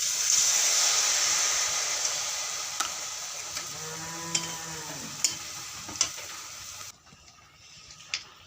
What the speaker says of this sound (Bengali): গরম গরম ভাজছি